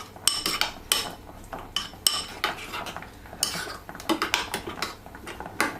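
A spoon stirs raita in a bowl, clinking and scraping against the sides in quick, irregular bursts close up, with no talking.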